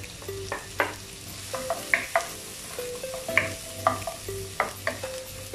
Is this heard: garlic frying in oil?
yes